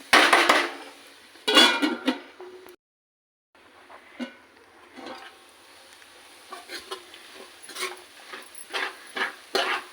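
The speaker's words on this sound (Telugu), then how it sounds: "అందుకని కలుపుకుంటూ ఉండాలి అప్పుడప్పుడు ఈ ముక్కలు వేగేంత వరకు." Bitter gourd pieces frying in a pan, stirred now and then: scraping and clattering strokes with soft sizzling between them, close and moderately loud, with a short silent gap partway through.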